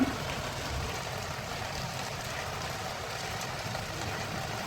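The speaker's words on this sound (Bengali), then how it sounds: "এই যে দেখুন প্রত্যেকটা গাছে বৃষ্টি পড়ছে" Steady morning rain falls on garden plants, a continuous broadband patter with no breaks, near and even in level, with no talk over it.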